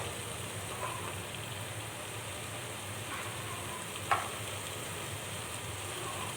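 Mutton frying in oil with salt, turmeric and chili stirred in, a steady low sizzle running throughout with a few faint stirring clinks and one brief sharper scrape near the end.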